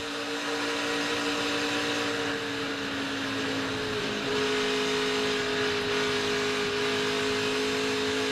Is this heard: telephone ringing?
no